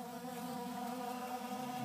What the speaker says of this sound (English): So I guess these are some of their bees coming to get nourishment.